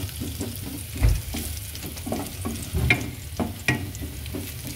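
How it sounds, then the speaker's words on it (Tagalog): Garlic toasts in a hot pan with a crackling sizzle, broken by repeated scraping and stirring strokes and a few sharp clinks of the utensil against the pan. "So, i-toast natin ng konti ang ating bawang."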